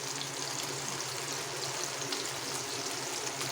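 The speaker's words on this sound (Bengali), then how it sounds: "আমি আদা লঙ্কা টমেটোটা হালকা ভেজে নিই" Ginger, green chilli and tomato frying gently in a little hot oil for a pointed gourd dish, giving a steady, close, even sizzle and crackle with no pauses and no talk.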